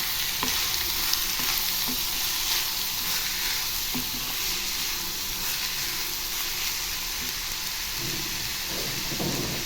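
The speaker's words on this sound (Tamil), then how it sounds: "இப்போது வெங்காயம் போட்டுடலாம். இதில் எண்ணெயிலேயே இந்த வெங்காயம் நல்லா வதங்கணுங்க." Onions sizzle in sunflower oil in an iron kadai, a steady, moderately quiet frying hiss with occasional soft clicks from stirring.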